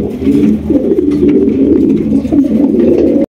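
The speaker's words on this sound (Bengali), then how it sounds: "এখানে রয়েছে একজোড়া সিরাজি কবুতর" Sirajee pigeons coo steadily and close by, low throaty rolling calls overlapping continuously, with no talking.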